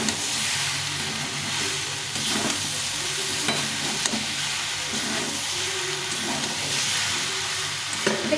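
Tomato and vegetables sauté in a hot pan for a shol fish chorchori, a continuous hissing sizzle broken by repeated stirring scrapes, with no voices.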